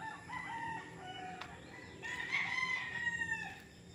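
Roosters crow at a Nagcarlan, Laguna farm where fighting cocks are trained: a couple of strained, rising calls stand out mid-clip over a steady rural background hum, fairly close and moderately loud.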